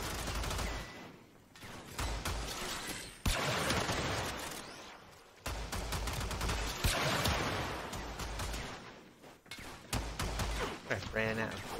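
Warframe's Prisma Angstrum weapon firing, heavy explosive blasts and crackling bursts in loud, dense waves, with a voice speaking between and over the volleys.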